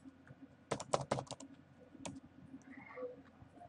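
Quiet keyboard typing: a quick cluster of clicks, then a single keystroke and a faint click or two against a soft room background.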